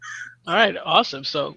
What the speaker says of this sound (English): There's a crow outside screaming.